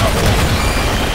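In the shooter game Gigantic X, a thrown grenade detonates in one loud, dense blast that fills the whole moment with roaring, rumbling noise.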